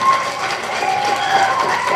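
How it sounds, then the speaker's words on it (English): Audience clapping at a Model UN summit held in a hotel hall, a steady, dense wash of hands filling the room for two seconds with no break. "Clap."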